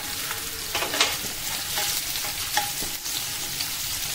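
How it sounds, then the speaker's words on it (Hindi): Ginger and chilies sizzle steadily in hot oil in a pan, a continuous frying hiss with occasional scrapes and clinks of a spoon stirring, no talk. "अब इसमें ये अदरक और मिर्च डाल दें, ये 1 चम्मच है, इसे थोड़ा चलाएं"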